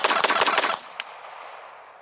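An FNX-45 Tactical pistol fires a quick string of close, loud shots in under a second, then one fainter pop follows as the echo fades.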